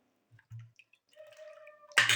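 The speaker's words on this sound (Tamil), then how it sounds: "அதில் தண்ணி போட்டு போட்டேன்" Water is added to rice batter for neer dosa in a mixer jar: a few small drips and splashes come first, then a short, close, bright pour splashes in at the end.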